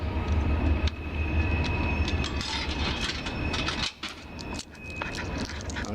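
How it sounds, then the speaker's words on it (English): A train rumbles past near a junk yard, loud and close, with a continuous low roar, steady wheel noise and sharp metallic clicks and squeals running through it. "I hear a train."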